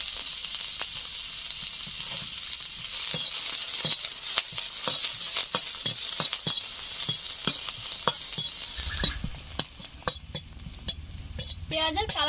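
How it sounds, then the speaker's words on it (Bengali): Chopped onion frying in white oil in a pan while being stirred, with a close, steady hiss and sizzle broken by repeated scraping strokes that grow sharper and more clattery toward the end. "দিয়ে দিচ্ছি পেঁয়াজ কুচি"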